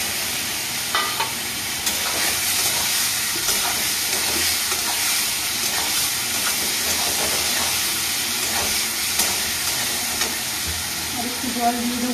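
Eggs fry in oil and spice masala for an egg curry, giving a dense, constant sizzle and hiss. Spatula stirs scrape through it at close range, and there is no talk.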